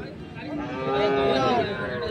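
Cattle at a livestock market let out one long, rising moo close by that swells and holds over faint background noise.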